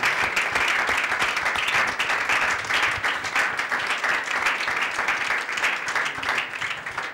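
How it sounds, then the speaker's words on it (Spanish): A church congregation at a Thanksgiving service breaks into sustained, dense applause, many hands clapping continuously with no clear voices over it. "¿Usted cree que él se merece un aplauso?"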